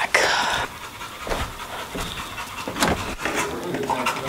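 A dog pants heavily and steadily close by, with a few faint whimpers mixed into the rapid breathing.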